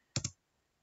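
Two quick keystrokes on a computer keyboard while typing the command git init, sharp clicks close together and then silence.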